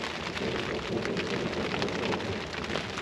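Steady rain drumming on a rooftop tent during a non-stop thunderstorm, a dense continuous patter close overhead with no voices.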